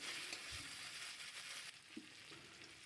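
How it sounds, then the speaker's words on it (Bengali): Ginger garlic paste sizzles loudly in hot oil as it is stirred in the pan, a dense continuous frying hiss with brief scraping touches of the spoon. "তেলের মধ্যে আদা রসুনটা দিয়ে একটু নাড়াচাড়া করে নেব"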